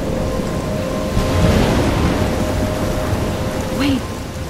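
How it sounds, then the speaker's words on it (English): A storm in the video game Life Is Strange: dense, steady rain hisses loudly throughout, while a low rumble of thunder swells and fades in the background. "I'm trapped in a storm?"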